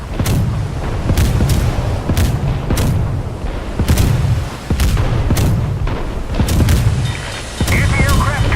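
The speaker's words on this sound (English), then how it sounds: "Anti-aircraft guns on alert." Anti-aircraft guns in the naval game Steel Ocean fire a steady series of loud, booming shots at roughly half-second to one-second intervals over a continuous low rumble of battle.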